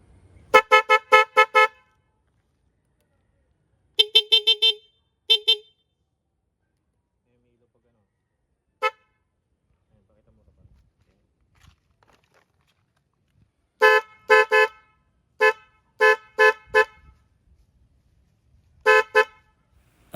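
Loud, close horn blasts from added double horns plus stock horn on a Honda Click scooter, in quick clustered bursts of beeps, separated by pauses, repeated several times.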